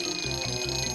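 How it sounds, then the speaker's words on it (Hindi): A cartoon alarm blares continuously, a loud electronic tone pulsing in short repeated bursts throughout, with no talking over it. "चलो अलार्म लगाएं।"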